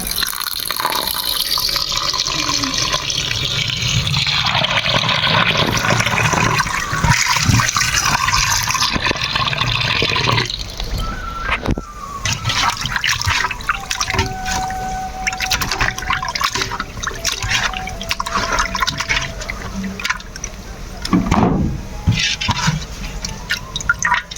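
Water runs and splashes while something is washed, pouring from a tap in gushes and drips, loud at first, then turning to intermittent trickles and clatter.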